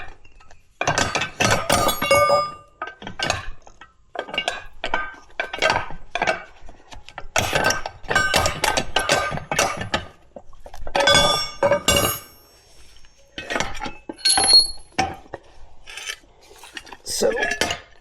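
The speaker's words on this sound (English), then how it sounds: "we can pull each one of these 4 plates off one at a time" Heavy metal counterweight plates for a Derette V1000 clink and scrape as they are pulled off one at a time, in repeated bursts of sharp metallic rattling separated by short pauses, close by with no talk.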